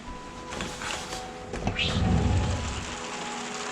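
Rain falls outdoors during a motorcycle trip in Tasmania: a steady, close hiss that swells into a heavier, rumbling wash partway through, with no voices.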